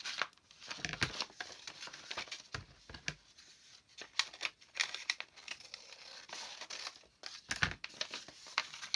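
Paper being cut for a handmade mini journal built from thrifted materials: close, repeated crinkling and snipping in short irregular bursts, with brief quiet gaps between strokes and no talking.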